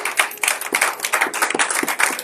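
A congregation at a Sunday church service claps in a short burst of brisk, fairly close applause, lasting only a couple of seconds.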